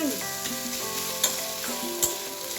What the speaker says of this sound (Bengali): ভালো করে মশলাটাকে কষাবো